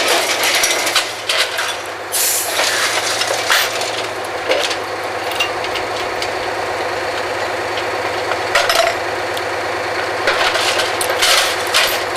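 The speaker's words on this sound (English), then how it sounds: "The Drawworks is powered by a diesel engine" A diesel engine driving the drawworks on an old Kelly drilling rig runs steadily and loudly throughout, a continuous low rumble with knocking and scattered metallic clanks on top.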